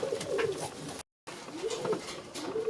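Pigeons cooing inside a loft for young birds, repeated low throaty coos at close range, with a brief gap of silence partway through.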